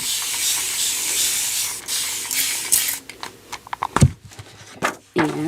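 Steady hissing spray of ink onto a card for several seconds, followed by short sprays and light rubbing and handling noises.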